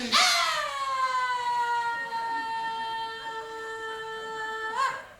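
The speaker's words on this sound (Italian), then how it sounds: "No, sono la sirena." A loud wailing siren holds a steady, slowly falling tone for several seconds, then swells up sharply again near the end.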